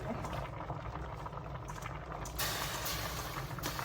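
A large pot of mushroom curry with Swedish wild mushrooms and holy basil bubbling at a steady rolling boil, nearly overflowing, with a dense wash of popping and gurgling that grows brighter and hissier near the end.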